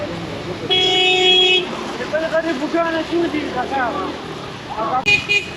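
A loud vehicle horn sounds on the GT Road between Peshawar and Nowshera in the rain, first a sustained blast of about a second and later a short toot, with someone talking over passing traffic in between.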